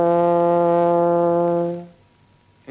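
A single sustained hand horn note, steady and rich, holding for nearly two seconds before fading to quiet.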